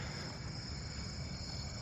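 A Japanese burrowing cricket chirps at night in a quiet neighbourhood, a continuous faint high trill over a soft background hiss, with no voices.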